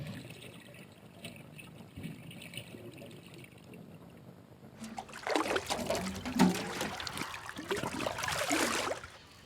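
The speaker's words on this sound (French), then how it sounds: "avant de procéder à l'arrosage" Water poured onto soil to water a fertilized bed on a poultry farm, heard as a sudden rush of splashing and trickling that starts halfway through, after a quiet outdoor background, and continues unevenly to the end.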